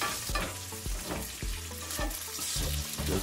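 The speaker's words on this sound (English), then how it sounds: "That's sauté, isn't it?" Food sizzles and crackles in a hot pan while being sautéed over a camp stove in a truck camper, with a steady frying hiss, stirring clatter and low hum running through the short stretch.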